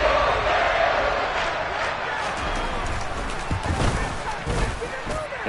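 A stadium crowd roars in a sustained, loud swell after a big football touchdown play, with scattered shouts and a commentator talking over it.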